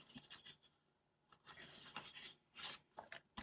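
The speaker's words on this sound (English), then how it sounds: "I think I might just do a little bit of extra burnishing though." A folded paper gift card holder is burnished by hand, giving soft, close rubbing and scraping strokes in short uneven bursts with a brief sharper swipe near the end.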